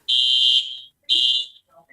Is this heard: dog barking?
no